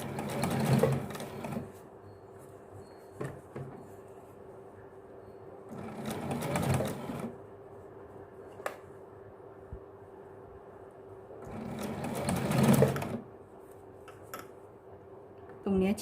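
A domestic sewing machine stitches a stand-up collar onto a garment in three short, loud bursts of rapid whirring, separated by quieter stretches of low room noise.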